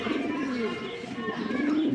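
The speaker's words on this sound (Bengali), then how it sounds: "মাশাআল্লাহ আমার বাড়ির একদম উঠতি কবুতর" Young silver Giribaj pigeons coo softly nearby in a low, continuous warble against a background hum.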